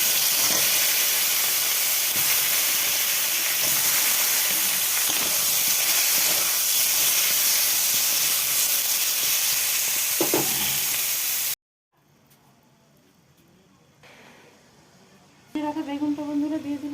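Fish frying in hot oil in a pan for a Bengali dish, a loud steady sizzle and hiss running close for about eleven seconds, then cutting off to near silence before a brief burst of other kitchen noise.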